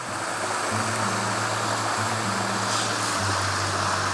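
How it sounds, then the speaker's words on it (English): A waterfall on Dartmoor roars as a steady broadband rush of falling water, loud and continuous throughout, with a low engine-like hum running underneath. "we've got the waterfall here"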